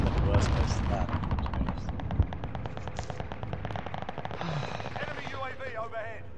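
Rapid gunfire crackles in Call of Duty Warzone Rebirth Resurgence quads, with bursts of automatic shots rattling continuously under excited voices calling out to each other.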